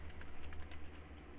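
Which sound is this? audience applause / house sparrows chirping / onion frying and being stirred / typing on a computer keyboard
typing on a computer keyboard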